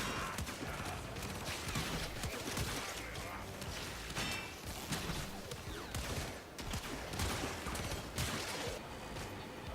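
Pandero pistol fire in Warframe comes as rapid, dense bursts of shots over constant combat noise, fairly loud and continuous, with a voice talking over the action.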